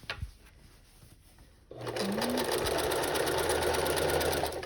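Sewing machine stitching a tote bag handle: after a quiet start with a few soft handling sounds, the motor kicks in and runs in a loud, continuous rapid whir of stitching to the end.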